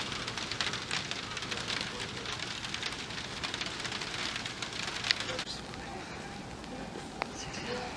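Heavy rain pours steadily at a Japanese shrine at night, a dense, even hiss of drops on surfaces lasting throughout, with a few sharper pattering hits.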